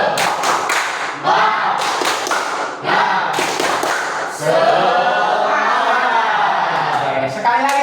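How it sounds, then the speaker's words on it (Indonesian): Group of people performing the Indonesian 'tepuk semangat' rhythmic clapping routine during a classroom lesson, with sharp claps in quick patterned bursts that switch into steadier clapping midway, close and loud, with voices mixed in. "Tepuk semangat. Tepuk tangan untuk kita semua."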